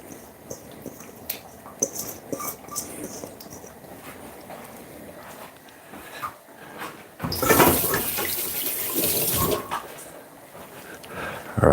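Hands being rinsed under a running kitchen tap, a steady hiss of water for a few seconds following quiet clatter and small handling sounds.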